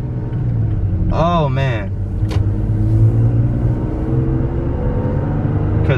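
A Toyota Tacoma pickup with an OV tune accelerates hard, its engine rising to a strong steady drone; a person speaks briefly over the engine noise early on.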